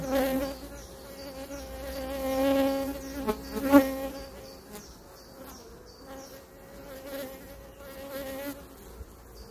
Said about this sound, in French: vous avez des abeilles qui vous tournent autour